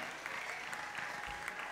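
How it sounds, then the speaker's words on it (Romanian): Soft, steady applause from a conference audience honoring a speaker at a talks event, distant and even. "Aplauze, vă rog, pentru Alex Vasile!"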